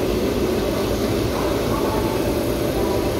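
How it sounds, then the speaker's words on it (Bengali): A diesel locomotive hauling the Howrah–Jamalpur Kaviguru Express idles at Howrah station, a loud, steady, continuous engine rumble with a dense low drone that never lets up. "তো এটা হচ্ছে ডিজেল চালিত, ডিজেল ইঞ্জিন"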